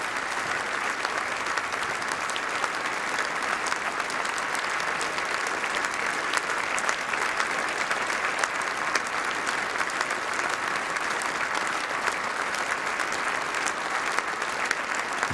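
Sustained applause from a large crowd filling a hall in the Houses of Parliament for the Queen, loud, dense and unbroken clapping throughout.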